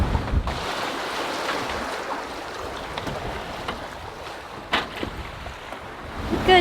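A sailboat on an ocean passage pushes through building waves in freshening wind, with steady rushing water, gusty wind buffeting the microphone, and occasional splashes and knocks.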